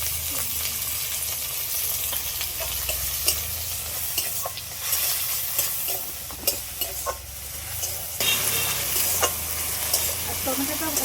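Chopped tomatoes and onions sizzle in hot oil with a steady frying hiss, broken by frequent clicks and scrapes of a spoon stirring the pan.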